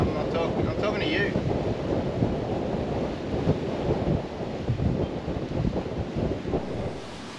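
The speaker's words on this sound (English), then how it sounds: "It's too windy to talk." Strong wind buffets a 48-foot sailing catamaran underway on the Delaware, a continuous roaring rumble of gusts against the microphone, loud and close, with no clear talk.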